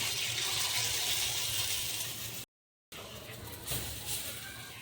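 Paddu batter spooned into very hot oil, giving a loud, dense, continuous frying hiss close by with a brief break partway through.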